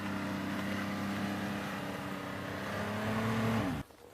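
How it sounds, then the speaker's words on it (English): A snow machine engine runs steadily on an Alaskan snowy trail, a loud continuous drone with a rising whine near the end before cutting off abruptly. "we go from village to village via the snow machine"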